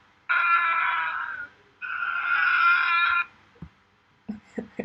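A scream sound effect triggered by code in a Halloween coding project, two loud sustained shrieks back to back followed by brief clicks and thumps.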